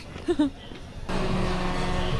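A car engine passing by outside a cafe in Baguio, a broadband rumble that swells in and holds steady and fairly close after a brief spoken moment at the start.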